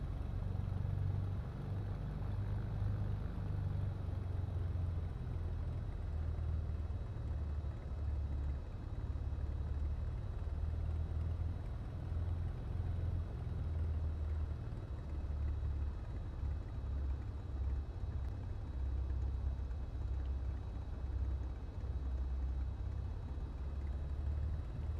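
A simulated BN2 Islander aircraft engine in Microsoft Flight Simulator 2024 drones steadily and low, a constant mid-level rumble with a faint high whine, running alone without pause.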